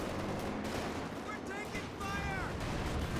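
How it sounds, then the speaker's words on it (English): Artillery barrage fire from the Company of Heroes 2 strategy game forms a dense, continuous rumble of distant explosions and gunfire, with brief whistling tones rising above the din throughout. "we do have the Scavenger Artillery Barrage available, and it's at max ramp up"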